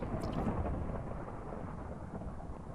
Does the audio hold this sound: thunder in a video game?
yes